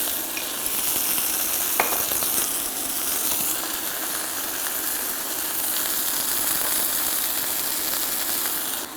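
Cube steaks browning in a hot pan give a steady, close, loud sizzle and crackle throughout, with a brief clink of a utensil partway through and no talking.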